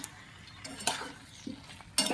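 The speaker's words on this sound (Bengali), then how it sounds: "এবার আমি ভেজে রাখা আলু, বেগুন, সয়াবিনগুলো আমি দিয়ে দেবো।" Fried potato, eggplant and soybean pieces stirred into masala in a pan: faint sizzle broken by a few distinct spoon scrapes and clinks against the pan, close and without talk.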